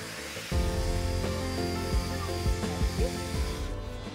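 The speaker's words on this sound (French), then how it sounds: "C'est le ponçage final." Final sanding of heat pipes in a workshop, a steady abrasive rubbing hiss with a few sharp knocks and scrapes over about four seconds, close and fairly quiet.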